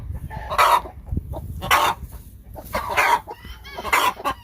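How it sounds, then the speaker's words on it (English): Agitated farm hens cluck and squawk loudly after their eggs are taken from the coop, giving several sharp, close calls in irregular bursts with short gaps between them. "Chicken curse words."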